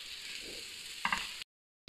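Potato filling stirred and pressed in a hot pan for aloo naan, a steady close sizzle with a brief scraping clatter near the end, then a short dropout.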